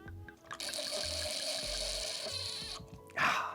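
A heavy pour of liquid into a cup gives a steady, broad hiss that runs for about two seconds, close and loud, with a splashy burst near the end and no talking.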